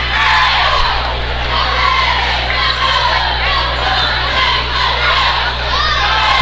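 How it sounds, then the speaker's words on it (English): A basketball crowd at a Class 4 District 2 championship game between Farmington and Central cheers and shouts steadily as Central cheerleaders try to rouse the fans, a loud continuous roar of voices filling the gym. "Central cheerleaders trying to get this crowd pumped up"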